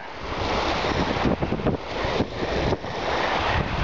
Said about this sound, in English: it's nice when the water when the water crashes onto a sandy beach